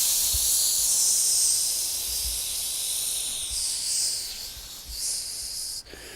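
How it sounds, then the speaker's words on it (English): A long, continuous breathwork exhale, a steady airy hiss that holds for several seconds and fades slightly toward the end, heard close and alone with no talking. "So I'm really just one continuous long exhale to really then relax the ribs."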